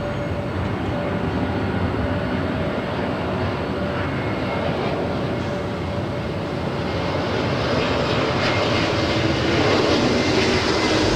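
An Airbus A320neo jet at Los Angeles International Airport gives off a steady, loud engine roar that stays constant throughout with no voices.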